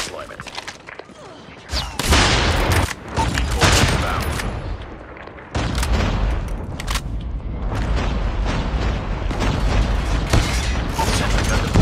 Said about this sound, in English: Sentry gun ready for deployment.